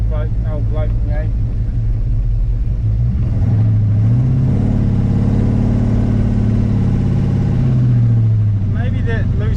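A neglected, abused 1946 Chevy pickup engine with a loose carburetor stud runs steadily close by, idling with a rough, uneven note and briefly revving higher in the middle before settling back.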